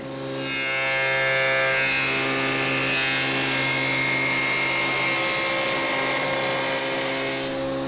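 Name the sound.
spindle moulder shaping sides of wooden rake comb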